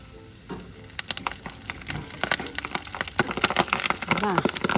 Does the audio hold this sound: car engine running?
no